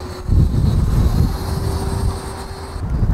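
An RC Marlin 64mm jet model airplane in flight gives a loud, steady rushing roar with a sustained whining tone and a heavy low rumble that surges slightly as it passes.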